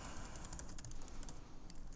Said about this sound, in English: I'm going to type again.